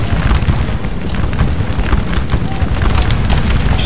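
Musket gunfire in Scourge of War: Waterloo, a dense, continuous crackle of massed rifle volleys heard from the side of the firing line. The shots blur into a loud, rumbling roar with no pauses.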